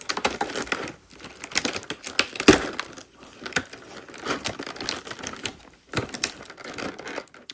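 Packaging around a model railroad boxcar being torn open and handled, a close series of irregular crinkling, snapping and rustling sounds with brief pauses between.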